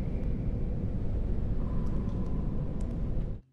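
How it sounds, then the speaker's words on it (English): Cave ambience from a first-person horror game forms a dense, rumbling, continuous wash of low noise with faint higher whistles drifting through. It holds steady, then cuts off abruptly at the end. "The first off is the cave ambience,"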